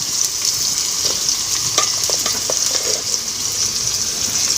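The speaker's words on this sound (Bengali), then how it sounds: "তেলের উপর পেঁয়াজ কাঁচা লঙ্কা দিয়ে দেবো" Onion and green chilli frying in oil for a red chicken curry, a steady hissing sizzle with scattered spatula scrapes and taps around the middle, close and without talk.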